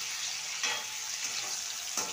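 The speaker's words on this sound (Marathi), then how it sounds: "आता गॅसची आग मोठी करून आपल्याला ही भेंडी शिजवून घ्यायची या तेलामध्ये." Okra cooking in hot oil in a pan over a high gas flame, giving a soft, steady sizzle with occasional brief louder crackles as the pieces are stirred.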